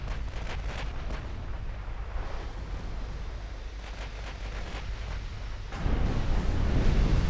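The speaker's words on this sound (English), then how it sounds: "Yeah, I think we can open fire now with the main guns." Naval main-gun salvos in Ultimate Admiral: Dreadnoughts during a battle off western Sweden, with a dense rumbling barrage and a heavier low boom surging in near the end.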